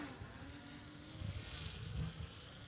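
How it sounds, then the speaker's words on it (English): A drone flies overhead in a backyard garden, its faint steady buzzing whine sitting low and distant in the background with no talk over it. "There's a drone up there."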